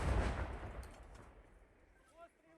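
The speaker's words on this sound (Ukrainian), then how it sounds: "Постріл! Постріл!" A loud gunshot blast on the Kharkiv front line decays into a long rolling echo, followed by faint distant sounds.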